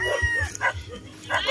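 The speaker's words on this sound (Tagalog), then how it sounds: "Ang dami ditong manok nila." Chickens on a farm cluck and call close by in short bursts, with a possible dog bark mixed in among the fowl noises.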